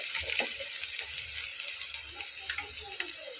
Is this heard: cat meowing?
no